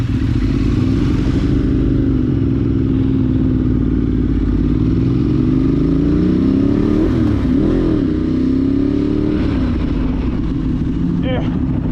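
Ducati 848 motorcycle on the move, its engine droning loud and close with rising and falling revs throughout, wind rush over the top, and a brief rattle near the end.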